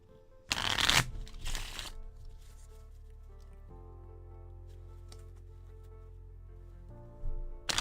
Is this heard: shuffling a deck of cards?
yes